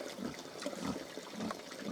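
Water runs into the piglets' trough and overflows into a puddle on a mini pig farm with Hungarian Mangalica pigs, a steady close trickling and splashing that holds for the whole stretch with no voices.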